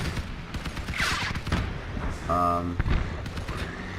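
Gunfire from enemy vehicles in the combat game Crossout, bursts and blasts mixed with engine drone and in-game effects, with someone talking over much of it.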